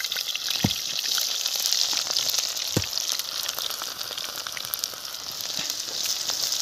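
Ginger-garlic paste and green chillies fry in a pan outdoors, giving a constant crackling sizzle with a few sharp pops and spatters throughout, no speech.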